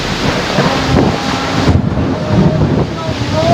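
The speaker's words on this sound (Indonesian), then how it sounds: "Angin puting beliung Sumatera." Tornado winds in Sumatra roar loudly and continuously close to the microphone, with gusty buffeting rumbles and a few faint voices underneath.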